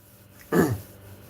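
A single short, rough cough, close and fairly loud, in an otherwise quiet room.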